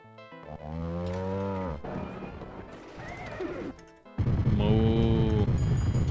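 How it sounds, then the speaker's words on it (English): Cow moos from a VR pinball video game, several loud drawn-out lowing calls mixed with game sounds and tones, the last moo loudest. "Moo."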